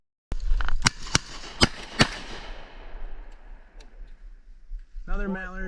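Shotgun blasts during a public-land duck hunt in Wisconsin, five sharp reports in fast succession echoing off into the distance outdoors, followed by a duck call quacking near the end.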